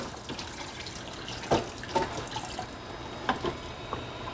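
Running tap water splashes into a film developing tank during rinsing, a steady faint flow broken by a few louder splashes and drips, with no talking.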